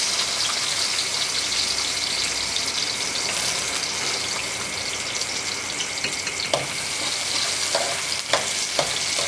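Onion sautéing in a frying pan for eggplant stir-fry, a dense steady sizzle close up with a few scraping stirs of the utensil near the end.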